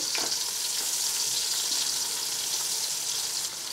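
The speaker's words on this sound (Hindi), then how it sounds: "प्याज को हल्का सा सुनहरी होने तक फ्राई करेंगे हम" Finely chopped onions fry in a pan with bay leaf, cardamom and cloves, cooking toward golden for Burhanpuri dal chawal. A steady, close, bright sizzle runs throughout with no talk.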